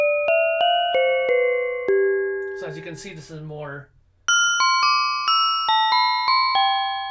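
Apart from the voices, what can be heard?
keyboard bell sound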